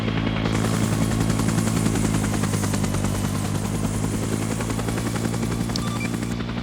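Helicopter in a military video game, a steady loud rotor and engine drone filling the whole stretch, with a fast pulsing beat throughout and no speech.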